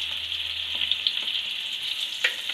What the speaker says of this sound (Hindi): हल्का सा भूनेंगे तेल में, और इसमें भिंडी डाल देंगे